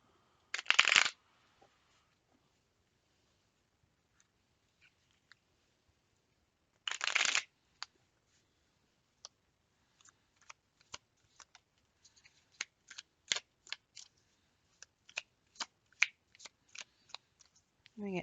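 Tarot cards shuffle in two quick riffling bursts near the start, followed by scattered soft taps and flicks of cards being handled and laid down, close and fairly quiet.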